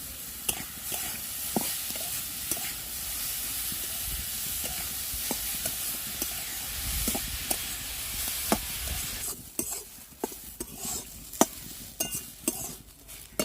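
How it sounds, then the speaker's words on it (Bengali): Raw papaya frying in ghee in a pan for a milk-papaya halwa, a steady sizzle and hiss with sharp clicks of a spoon stirring against the pan, the sizzle quieting partway while stirring continues. "যে পেঁপেটা আমি বেশ করে রেখেছিলাম সেটা আমি ঘিয়ের মধ্যে দিয়ে নিয়ে নেবো"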